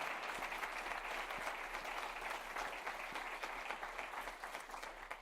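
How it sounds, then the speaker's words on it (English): Audience applause honoring a university Board of Trustees at a State of the University address, steady dense clapping filling the hall for about five seconds with no speech over it. "So let's give a round of applause to our Board of Trustees."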